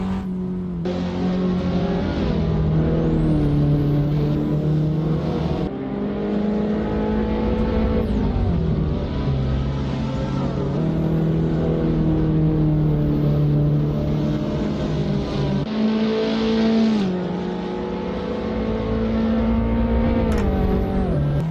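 Race car engines in Assetto Corsa chasing a Celica, a continuous loud engine drone rising and falling in pitch through gear shifts, with no talk over it.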